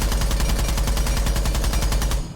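Rapid automatic fire from a Para 308 rifle in Rainbow Six Siege, a dense, loud, steady burst of closely spaced shots that runs for about two seconds and then cuts off abruptly.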